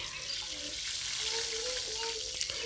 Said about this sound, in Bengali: এবারে আমি তেলে ভেজে নিচ্ছি